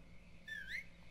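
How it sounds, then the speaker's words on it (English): A character in the video game Mafia 3 whistles a short rising-and-falling tune, thin and fairly faint, over a low steady game background with no talking. "Just whistling, you're out"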